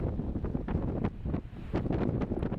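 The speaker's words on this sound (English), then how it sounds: "The wind is so strong today." Strong outdoor wind buffets a camera microphone, making a steady, heavy low rumble with gusty surges for a few seconds and no talk.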